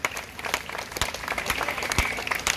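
Crowd applauding at an outdoor July 14 Frexit rally, a dense steady patter of many hands clapping with a few sharper claps standing out, sustained throughout.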